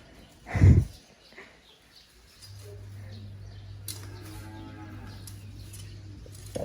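A calf on a farm lets out one loud, close moo early on, followed by quieter rural background with a low steady hum and faint bird sounds.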